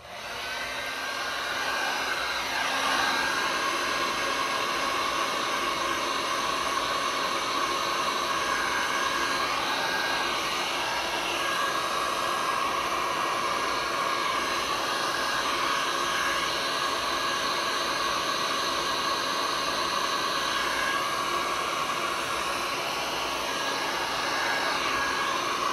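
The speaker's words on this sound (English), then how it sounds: "I better use my heat gun on the part that I can just" Heat gun blowing steadily on kintsugi coasters, a continuous close airy roar with a whining fan tone that stays level for the whole stretch, briefly shifting in pitch as the gun moves.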